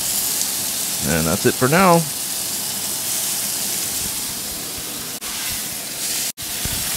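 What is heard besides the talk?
steak sizzling as it cooks in a pan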